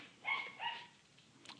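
A dog barks indoors, two quick moderately faint barks followed by a fainter yip, distant and alone without speech.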